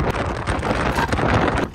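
Loud, blustery wind buffets the microphone in a continuous roar with gusty surges, no voices present.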